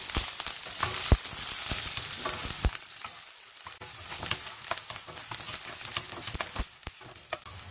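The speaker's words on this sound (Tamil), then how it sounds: "கொஞ்சமாக உப்பு சேர்த்து வதக்கிறேன்" Onion, curry leaves, mustard seeds, urad dal and cumin sautéing in oil in an iron pan, a steady sizzle broken by repeated scraping and clinking stirs of a spoon against the metal.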